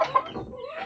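Chickens clucking close by in short, soft bursts, with no talking.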